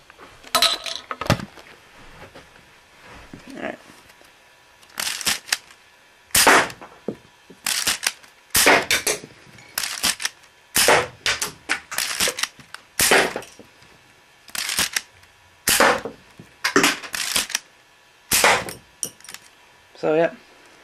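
A K'nex dual-turret toy bow fires repeatedly at cans, making a long series of sharp snapping launches and clattering hits in irregular bursts, loud and close.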